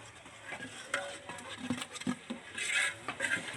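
Onions and chillies stirred in oil in a pan at a home Telangana festival cooking, with scraping and clattering of a utensil against the metal in short irregular bursts and a soft sizzle underneath, fairly close.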